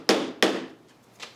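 Two sharp, close hammer blows drive a nail into wood in quick succession, each strike ringing briefly before fading, followed by a softer tap.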